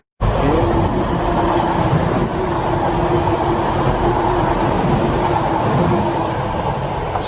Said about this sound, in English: Just caught a passing train there.